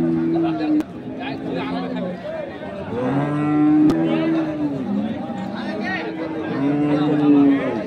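Dairy cows, including Sahiwal, Sindhi and local breeds, moo repeatedly in long, drawn-out calls at the Ambari cattle market, over a background of crowd chatter and nearby talk.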